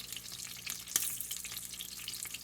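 Eggs frying in beef tallow give off a steady broadband sizzle that holds without pause, with one brief louder crackle near the middle and no voices.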